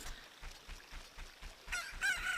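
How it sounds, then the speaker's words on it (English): Chickens from Zelda: Ocarina of Time cluck repeatedly in a steady pattern, with a game crowing cue rising near the end, all heard alone without voices. "Look, a chicken hatched from the egg you were incubating."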